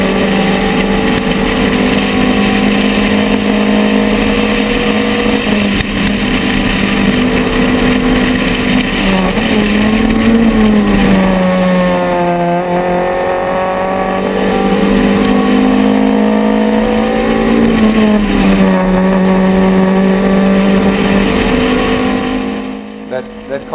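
Super 7 race cars circuit racing at Bulawayo, heard from inside a car: a loud, continuous engine drone rising and falling through gear changes and revs, with a driver talking over it.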